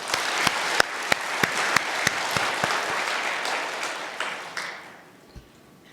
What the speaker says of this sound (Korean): 그 마음으로 크게 박수 한번 하도록